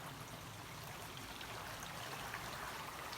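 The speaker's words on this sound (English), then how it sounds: "Just filtering some water." Water trickles steadily while being filtered at a stream during a winter hike on the Appalachian Trail, a soft continuous flow heard close and quiet, with no voices.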